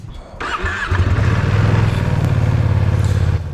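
A Ducati Streetfighter V2 motorcycle engine catches, then settles into a loud, close, steady idle with a deep rhythmic throb that continues throughout.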